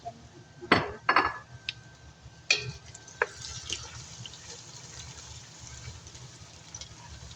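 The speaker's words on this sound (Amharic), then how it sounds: "አሁን ካሮቴን ነው የምጨምረው።" Carrots are dropped into a cooking pot of softened onions, giving a few sharp clinks and clatters against the metal followed by faint sizzling and scattered small knocks, fairly quiet.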